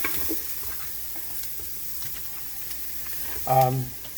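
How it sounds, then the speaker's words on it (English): A spaghetti sauce base fries in a pan with a soft, steady sizzle, and a brief stirring clatter comes near the end. "we're going to let that fry for a few seconds"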